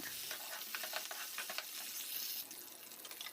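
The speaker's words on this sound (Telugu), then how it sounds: "ఈ విధంగా ఇవి ఆయిల్లో బాగా ఫ్రై చేయాలి" Ginger and green chillies sizzle in oil with a soft, even crackle and occasional stirring clinks, quiet but continuous and close, with no voice over it.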